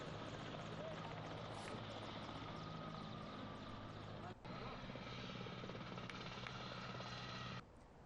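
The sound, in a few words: army helicopter flying over hospital showering flowers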